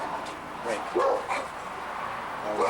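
A few sharp dog barks ring out close by, irregular and excited, with some yips mixed in.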